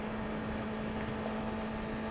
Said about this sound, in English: Not too bad for a stock exhaust.